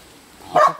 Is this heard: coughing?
no